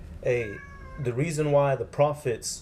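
A house cat meows close to the microphone, a drawn-out cry followed by shorter meows, mixed in with someone talking over it.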